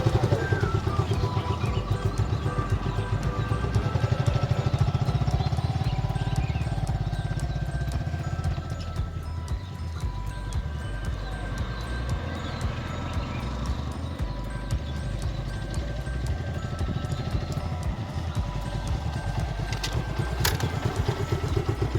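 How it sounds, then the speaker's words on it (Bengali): A motorcycle in first gear pulling away as the clutch is slowly let out and the throttle gradually raised: a loud, steady, close engine rumble with a pulsing low throb throughout the clip. "এখন আমি আস্তে আস্তে আমার ক্লাচটি ছাড়বো এবং আমার পিক আপ আস্তে আস্তে বাড়াবো।"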